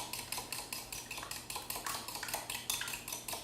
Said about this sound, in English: We'll give this a whisk.